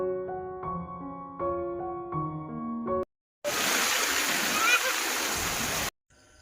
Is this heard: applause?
no